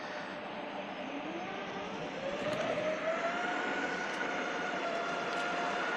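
A VEYMAX NYMPH electric skateboard in speed mode 4 climbs a steep hill at full throttle, its motor giving a steady whine that rises in pitch over constant rushing road and wind noise, with no talking.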